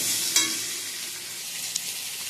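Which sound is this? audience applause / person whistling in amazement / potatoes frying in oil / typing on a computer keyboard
potatoes frying in oil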